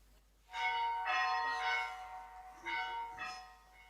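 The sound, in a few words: bell ringing in pantomime Puss in Boots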